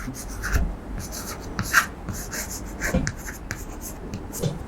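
Chalk or marker writing out a compound-interest math problem on a board during a Class X lesson, a steady run of short scratchy strokes and taps with no speech over them.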